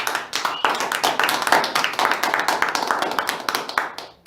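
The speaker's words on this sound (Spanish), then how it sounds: "Dale un fuerte aplauso al Señor." A church congregation applauding during a sermon, dense steady clapping from many hands over the full stretch, loud and close, ending abruptly.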